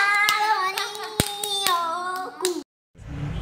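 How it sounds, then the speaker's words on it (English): A few people clap by hand at a home birthday gathering, sharp close claps mixed with a sustained melodic tone and a voice, then a brief cut to near silence before a soft noisy tail. "clap for Ari."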